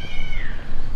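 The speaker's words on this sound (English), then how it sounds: "there's a cat fighting another cat" Two cats fighting outdoors, a loud drawn-out yowl that rises and falls continuously over about a second with no talk.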